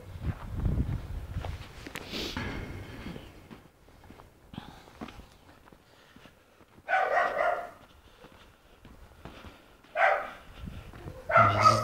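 Several dogs bark in scattered bursts at a winter garden-plot settlement near Krasnodar, some barks near and others farther off, with quieter gaps and faint footsteps between them.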